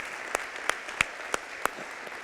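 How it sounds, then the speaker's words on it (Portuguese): An Easter church congregation claps in a sparse, steady rhythm of single sharp claps, faint and reverberant in a large hall, under a low murmur. "eu quero dar uma salva de palmas"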